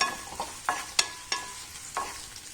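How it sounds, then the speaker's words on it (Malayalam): Four cloves of garlic and chopped ingredients for a Kerala-style chammanthi are sautéed in a pan, with a spatula striking and scraping it about five times over a soft sizzle, up close and without speech. "നാല് അല്ലി വെളുത്തുള്ളി ഇനി നമുക്കൊന്ന് ചെറുതായിട്ട് ഇതൊന്ന് വഴറ്റിയെടുക്കാം"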